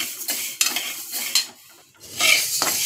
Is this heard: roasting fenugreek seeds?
yes